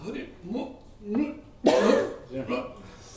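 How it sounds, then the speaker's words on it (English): A short, harsh throat clearing bursts out between stretches of nearby conversation, loud and rasping for about a second. "it was just clearing my throat"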